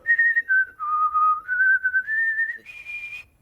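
A single clear whistled tune, sliding between several sustained pitches and ending on a higher note, close and alone with no talking.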